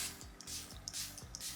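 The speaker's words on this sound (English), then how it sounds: "But this is the Charlotte Tilbury Airbrush Flawless Setting Spray." Charlotte Tilbury Airbrush Flawless Setting Spray misted in several short, soft hissing bursts, close and fairly quiet, with light handling thumps between sprays.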